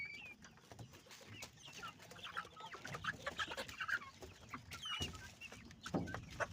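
Local Sonali breed chickens, two-month-old hens about to start laying, cluck and call in a farm setting, with overlapping busy clucks and occasional sharper calls continuing throughout, moderately near and without speech.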